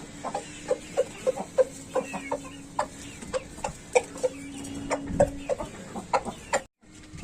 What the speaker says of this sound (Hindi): मुर्गी को छोड़ दिया देखो